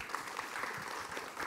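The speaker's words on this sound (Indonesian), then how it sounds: "Tepuk tangan buat ibu." A studio audience at an Islamic religious talk show applauds a woman among them: steady, dense clapping throughout, fairly soft and evenly sustained.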